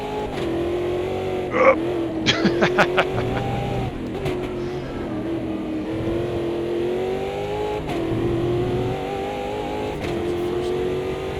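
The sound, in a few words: race car engines revving in video game Automobilista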